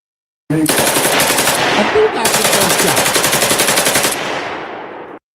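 A gunshot sound effect: loud, rapid automatic gunfire in two sustained bursts separated by a short pause, the second burst fading slightly at the end.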